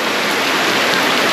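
Heavy rain falls steadily at the start of a downpour outdoors, a dense, loud, unbroken hiss with no gaps and no talk.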